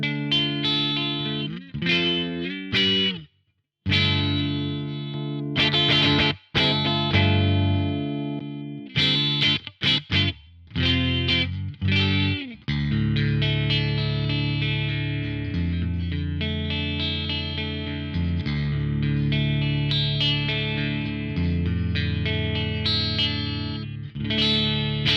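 Electric guitar through a Marshall Mode Four solid-state amp on the clean channel with the EQ scoop button cutting the mids, strummed chords and sustained ringing notes with short breaks, close and steady, no talk.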